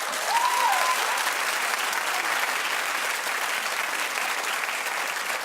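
Sustained, dense applause from a studio audience, steady and fairly loud throughout, with a brief faint voice near the start.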